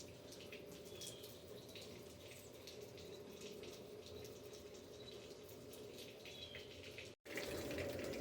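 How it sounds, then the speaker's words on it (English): Plain water flushing through a car's cooling system during a cheap coolant flush, a steady rushing, splashing flow that runs on continuously at low level with a brief cut near the end. "I'm flushing it out with just water again."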